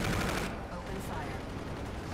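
Sustained gunfire in the Call of Duty: Infinite Warfare video game, a dense rapid burst loud at the start that continues as a steady rattling barrage throughout.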